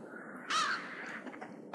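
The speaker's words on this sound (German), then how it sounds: "Hey, ein Rabe. Rabe, komm her." A raven in the dark side-scrolling video game Limbo lets out one loud, harsh caw, then a shorter, quieter second call moments later, alone over a low ambient drone.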